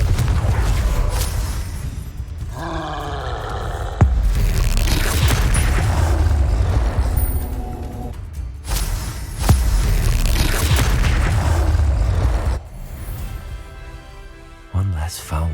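Blasts from the Confringo fire spell in the game Hogwarts Legacy, several booming explosions with sharp onsets and rushing whooshes, loud and close amid ongoing combat clatter and voices.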